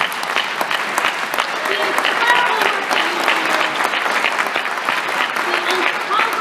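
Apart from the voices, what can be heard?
audience applauding the staff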